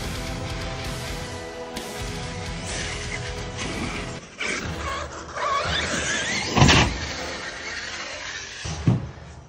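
A custom Arrma Talion RC car with a Castle 1717 motor, revving in sharp whining bursts as the throttle is clicked, with clattering impacts, close and fairly loud.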